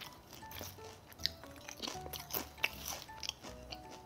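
Loud, close crunching and chewing of crisp potato chips, repeated bites with crackly snaps, no voices.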